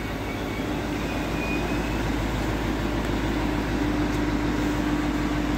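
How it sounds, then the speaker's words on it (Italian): Continuous low rumble of a train arriving at a station platform, steady and loud, with faint metallic squeals and a brief high tone toward the end. "aspettiamo il treno al binario 1 che va a Santi A. Eccolo, sta arrivando."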